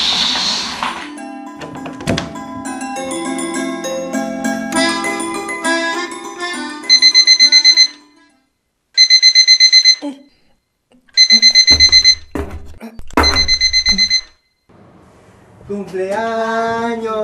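An electronic alarm clock beeps in repeated loud bursts with short gaps, after some shuffling and voices at the start; a voice speaks again at the end.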